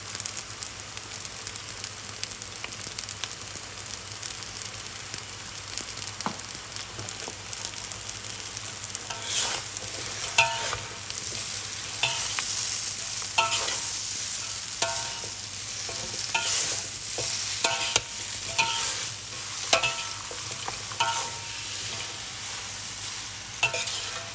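Glass noodles with egg and cabbage stir-fry in a large pan, a steady oily sizzle running throughout with repeated scraping and clinking of a spatula against the pan, no voices.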